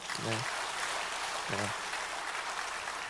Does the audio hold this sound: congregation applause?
yes